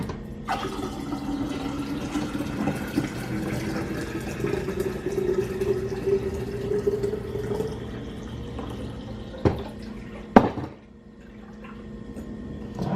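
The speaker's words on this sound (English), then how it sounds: "Pour cold water in there to cool it down to room temperature." Cold water pours from a container into a jar of brewed tea for kombucha, a continuous gurgling fill with rising pitch as the jar fills, ending in a couple of splashes and clunks, no talking.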